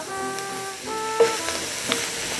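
A dark gumbo roux seized with added garlic, jalapeno and bay leaf, sizzling in a pot under a steady hiss, with a brief stir and a faint clink, while a low hum runs through.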